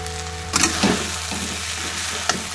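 Poha being stirred in a hot pan, a steady sizzle with a few sharp scrapes of a spoon against the metal, close and clear with no talking.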